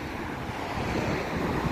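Steady, broadband wind rushing outdoors, a constant roar with slight gusting and no voices.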